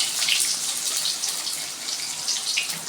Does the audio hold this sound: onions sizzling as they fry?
yes